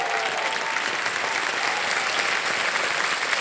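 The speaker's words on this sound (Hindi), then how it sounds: "यहाँ पर जनता ने ताली बजाई आपके लिए और सबने स्वागत किया और अभी भी बजाते जा रहे हैं।" Studio audience applauding a contestant on the quiz show KBC, dense continuous clapping at even loudness throughout.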